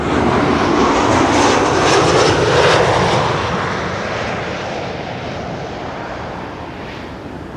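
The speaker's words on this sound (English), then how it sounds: "Ryanair arriving from Dublin, Ireland, flight 3100." A Ryanair jet airliner arrives on runway 06 at Amsterdam Schiphol, a loud, steady, broadband roar that swells and then slowly fades as the aircraft passes, with some wind buffeting on the microphone.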